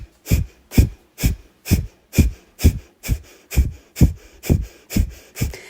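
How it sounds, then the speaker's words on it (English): Breath-of-fire breathing: a dozen quick, sharp nasal exhales pushed out by the belly, evenly spaced about twice a second, close and loud with no talking. "we exhale out the nose in quick, sharp bursts, using the belly to really press the air out"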